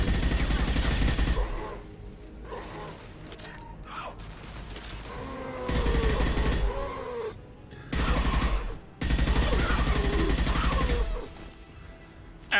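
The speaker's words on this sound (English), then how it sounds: "And I like just shooting them." Bursts of rapid gunfire from shooting enemies in the video game Mass Effect 2 come in several loud volleys separated by brief quieter gaps of mechanical clanks and creaks.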